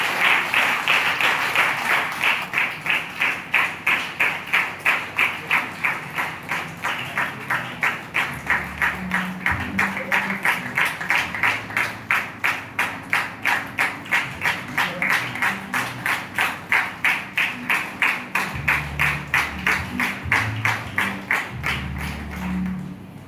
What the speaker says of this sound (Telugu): మీరు అందరూ చప్పట్లు కొట్టాలి.